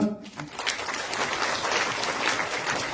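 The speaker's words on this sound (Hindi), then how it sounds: "तो एक बार इनके लिए जोरदार तालियां" Audience at a Kabir satsang in Ghaziabad breaks into loud, dense applause, a continuous crackle of many hands clapping that holds steady from start to finish, close and full.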